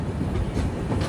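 Humsafar Express train pulling into a railway station amid hills, a steady loud rumble of wheels and carriages with faint clickety-clack, close and continuous, no voices.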